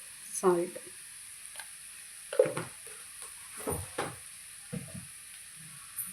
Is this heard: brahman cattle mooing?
no